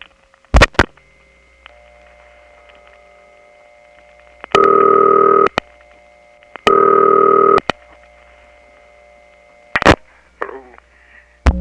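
In a 1979 step-by-step telephone office in Atlanta, sharp clicks and relay clacks punctuate a faint steady tone, broken by two loud, sustained, buzzing dial-tone bursts, with more switching clatter at the end.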